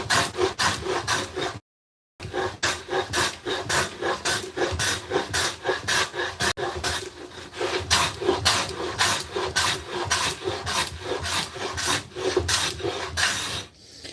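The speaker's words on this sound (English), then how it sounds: "All I'm doing is planing down to that." Freshly sharpened number 4 hand plane working a wooden board down to a knife line, repeated rhythmic shaving strokes, loud and close with one brief gap, no talking.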